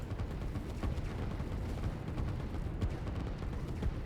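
Artillery pieces shelling dug-in infantry in the strategy game Line War, a steady, dense stream of booming shots and explosions at moderate level with scattered sharper impacts and no talking.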